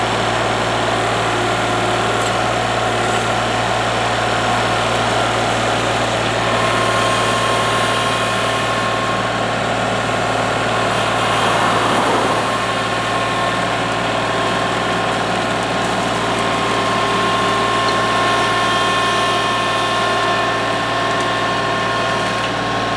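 A Kubota L3301 HST diesel tractor runs at a steady, even drone while it pulls out an old fence held by straps. The engine hum is continuous and fairly loud throughout, with no talking.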